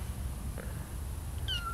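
A kitten gives a single thin, high meow near the end, over steady low background hum in a quiet room.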